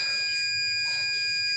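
A steady, piercing electronic buzzer tone from an Arduino flame-sensor fire alarm sounds continuously at close range, unbroken for its whole length.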